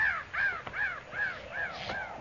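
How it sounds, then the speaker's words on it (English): Crows caw in a radio drama sound effect, about five harsh calls spaced in a steady rhythm at moderate distance, with no other sound around them. "Those crows ain't flying. Figure they're sitting in the trees waiting for a handout."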